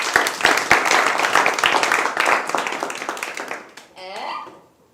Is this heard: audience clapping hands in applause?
yes